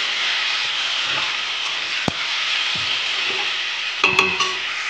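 Potatoes fry in hot oil with a steady, fairly loud sizzle and hiss, while a utensil stirs them and scrapes the pan in a few brief clinks and knocks; nobody speaks.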